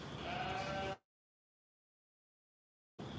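A Boer goat bleats once at a county fair livestock barn, a loud, close, wavering cry lasting about a second, followed by silence and then returning crowd noise.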